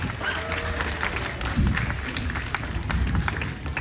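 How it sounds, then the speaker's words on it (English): Crowd applause after a stunt demonstration at a Fright Manor demo show, a moderate burst of clapping mixed with outdoor bustle and low rumbling, some indistinct activity underneath. "Big round of applause for Chris"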